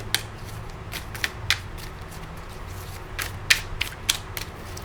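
Tarot cards being shuffled and laid out during a reading: faint, soft papery flicks and snaps in scattered short bursts over quiet room tone, heard close and with no speech.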